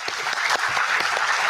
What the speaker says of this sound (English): let us warmly welcome Professor Ajay Vinze with a big round of applause